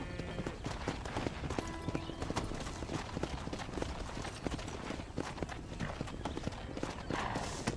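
Horse hooves clip-clop steadily in a Red Dead Redemption ranch scene, a quick, continuous patter of hoofbeats that stays close and loud from start to finish, with busy game ambience around it.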